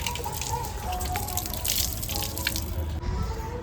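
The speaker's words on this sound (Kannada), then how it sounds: "ನಂಗೊಂದು ಸ್ವಲ್ಪ ನೀರು ಬಿಡ" Tap water runs in a steady, close splashing stream, with a few drips mixed in, at a temple.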